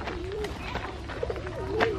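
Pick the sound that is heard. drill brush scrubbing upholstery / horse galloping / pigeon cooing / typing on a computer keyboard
pigeon cooing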